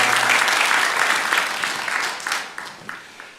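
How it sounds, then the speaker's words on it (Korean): Applause from a church congregation during a Korean Sunday worship service fills the room: dense, steady clapping from many hands that thins slightly toward the end, with no talk over it. "우리 영광의 박수를 우리 하나님께 올려드리겠습니다."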